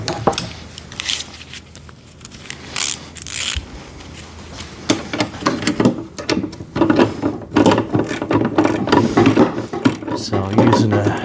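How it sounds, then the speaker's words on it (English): Ratchet working on 17 mm wheel nuts of an Albott electric drain cleaner machine, irregular clicks and knocks close up, with a person talking throughout. "ratchet and a 17mm wrench on the other side"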